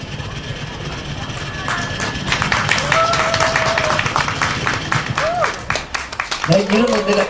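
An audience at a live folk comedy show claps loudly in dense, scattered bursts, with a performer's voice talking over the applause and a brief vocal flourish near the end.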